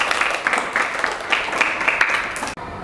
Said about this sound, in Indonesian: Tepuk tangan Krishna.